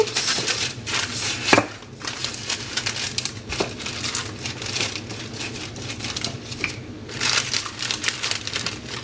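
Continuous crinkling and crumpling of paper while grain-free almond flax seed cracker dough is rolled out between sheets, busy and close, with a few sharper crackles and no talk.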